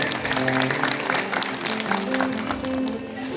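A satsang audience claps to welcome a family, a short burst of fairly dense applause with a faint tonal background and some voices underneath.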